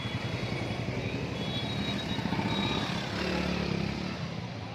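Dense weekend road traffic of cars and motorbikes, a continuous loud rumble of engines idling and revving nearby, steady throughout with no voices.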